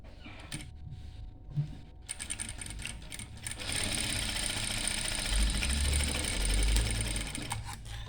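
A sewing machine stitches a petticoat. Short bursts of mechanical clatter give way to a steady, rapid, whirring run, close and moderately loud, with no talking.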